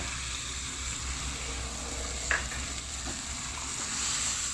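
Shrimp stir-fried with salt and chili, sugar, seasoning powder and oyster sauce, giving a steady soft sizzle with faint stirring scrapes and one brief clink, no talk.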